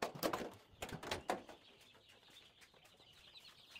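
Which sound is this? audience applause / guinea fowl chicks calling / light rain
guinea fowl chicks calling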